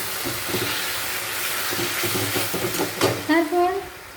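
Chilli chicken sauce with tomato sauce and roasted coriander-cumin powder being stirred in a pan, soft scraping and light sizzling under a continuous clatter, with a few brief louder knocks near the end.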